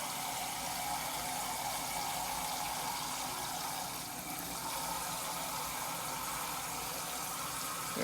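Water runs steadily into a pot of rinsed rice, a continuous close, even splashing stream with no break for the full stretch, the measured amount poured while making teriyaki chicken.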